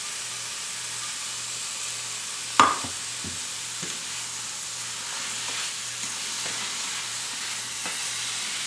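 Cooked tenderloins reheating in a pan give a steady, moderate sizzle with a sharp clatter as they go in, then faint scrapes and taps over the frying hiss.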